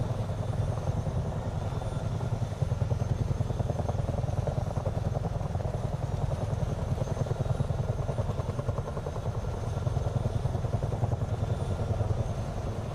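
Chinook twin-rotor helicopter in Microsoft Flight Simulator 2024, a steady rhythmic rotor thump and engine drone held evenly at moderate level from start to finish with no talking.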